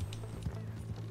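Horse hooves clip-clopping in the video game Red Dead Redemption 2, a few quick soft thuds over a steady low hum, brief and fairly faint.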